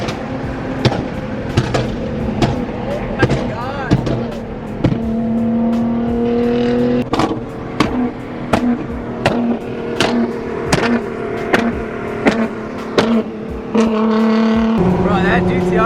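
A Nissan GT-R Nismo accelerates hard through repeated gear shifts, its engine note climbing in pitch and cutting off again and again with loud, close, rhythmic revving bursts.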